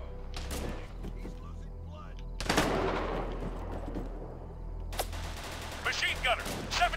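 Automatic machine gun bursts in an Arma 3 Vietnam battle, several broadband volleys in irregular bursts with ambient combat noise between them, under occasional radio-style voice chatter.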